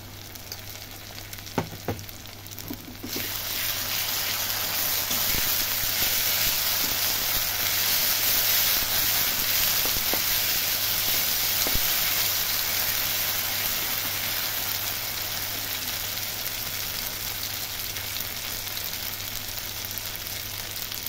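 Onions frying in oil with ground spice paste, dried chilli, ginger, garlic and cumin paste added for a boneless lote fish dish, making a loud, continuous close sizzle that flares after a few quiet seconds with occasional stirring clicks.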